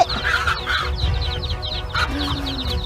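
A hen guarding her chicks from an attacking eagle clucks agitatedly, with a close, loud series of sharp repeated clucks in uneven bursts and short pauses between them.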